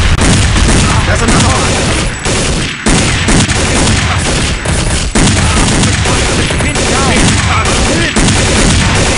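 Dense, continuous gunfire and fusillades in a Counter-Strike: Condition Zero motorcade assault, loud and sustained with bursts and booms, while soldiers shout over the shooting.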